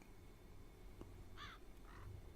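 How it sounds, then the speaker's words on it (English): A crow caws in The Dark Eye: Chains of Satinav video game, two rough calls in quick succession over a quiet, low ambient hum, moderately distant. "And there's a crow."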